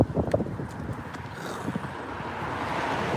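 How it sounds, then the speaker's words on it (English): Wind buffeting a microphone outdoors gives heavy, gusty low rumbles and thumps, loud and close, with the blasts settling into a steadier roar. "oh my God, it's windy!"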